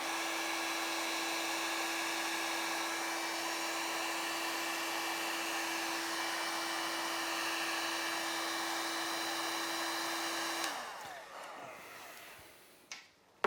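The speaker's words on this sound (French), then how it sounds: "on va accentuer les cellules, la dilatation des cellules avec un coup de sèche-cheveux" A hair dryer blows on poured paint with a steady, loud whirring hum for about ten seconds, then clicks off, leaving faint rustling and handling noises.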